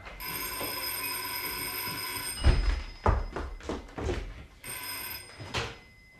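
A telephone rings with a bright electronic trill, stops briefly while a few thuds and knocks sound nearby, then rings again.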